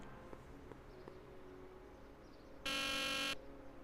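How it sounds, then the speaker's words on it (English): A harsh electronic buzzer from the Back to the Future video game, set at the Hill Valley Courthouse, sounds once for under a second, loud and steady against a quiet background hum. "let's go to the buzzer"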